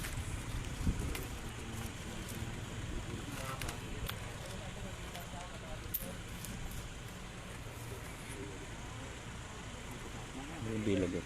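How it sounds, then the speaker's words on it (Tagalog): Gusty wind buffeting an outdoor microphone during a police drug arrest in Numancia, a steady rumbling roar that swells louder near the end while voices talk over it. "mahangin."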